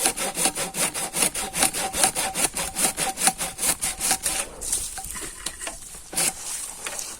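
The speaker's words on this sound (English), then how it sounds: "I gonna cut out one of the branches of the pines" A hand saw cuts through a pine branch at an off-grid woodland plot in steady, rhythmic back-and-forth strokes, close and clear. The strokes slow and grow irregular toward the end as the cut finishes.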